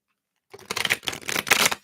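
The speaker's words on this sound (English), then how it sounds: "So that was a little poor shuffle there. Let's try that again." A deck of tarot cards is shuffled after a moment of silence, giving a rapid, close riffling clatter in two quick bursts, with no voices.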